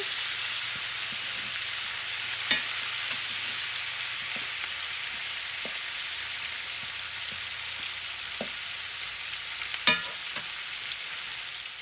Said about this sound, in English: We're going to start letting these onions cook down